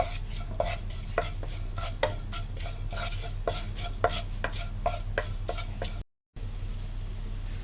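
Coarsely crushed red chilli lightly frying in a spoonful of oil in a pan, with a steady sizzling hiss broken by regular clinks and scrapes of a spoon against the metal and a brief silent gap near the end.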